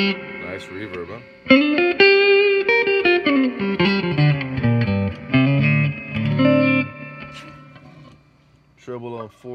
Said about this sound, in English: Nice reverb, huh?